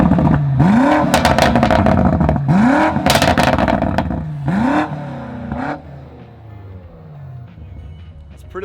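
A BMW M5 exhaust is revved hard three or four times in quick succession, each rise ending in a loud crackling burst, close up, then settling into a lower idle burble.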